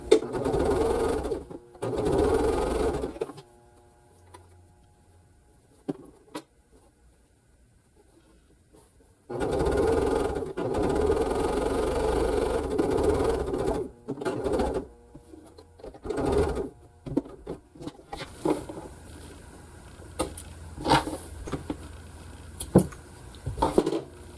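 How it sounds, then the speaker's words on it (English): A sewing machine stitching a quilt block runs in several close bursts of rapid mechanical whirring, separated by quiet pauses and light handling clicks, with no voice. "Now I'll just sew this last part on."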